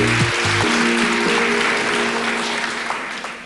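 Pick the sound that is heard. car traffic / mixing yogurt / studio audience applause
studio audience applause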